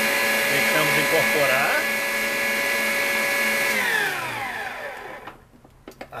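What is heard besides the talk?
electric stand mixer beating cake batter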